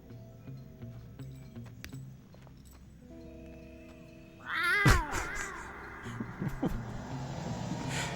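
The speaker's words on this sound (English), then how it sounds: "Did he just make a cat noise?" Cat meow from the stealth action game Metal Gear Solid 3, a short wavering cry that rises loudly out of quiet game ambience midway through, followed by softer background sounds.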